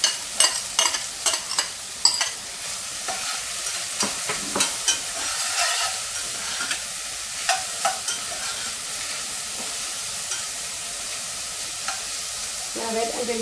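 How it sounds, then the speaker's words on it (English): Onions frying in about two spoons of oil for Southern cabbage rolls, a steady bright sizzle with frequent sharp clicks of a utensil stirring and scraping the pan, close and alone without talk. "We're going to fry some onions"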